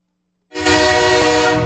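A loud, sustained train whistle blast cuts in after about half a second of silence and holds steady, rich and brassy, through to the end.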